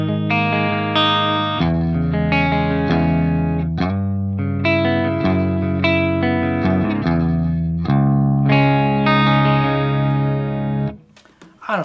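Electric guitar played through a Revv Generator 120 MKIII amplifier on its wide preset, sustained chords and ringing notes with effects, loud and steady, ending abruptly in a brief near-silent tail.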